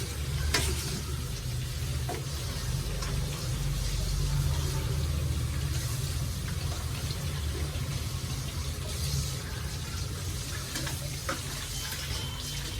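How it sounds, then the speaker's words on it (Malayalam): Two spoons of mustard seeds in hot oil for an amla pickle, a dense continuous crackle and sizzle with scattered sharper pops, steady and close throughout. "കടുക് നന്നായിട്ടൊന്ന് പൊട്ടണം."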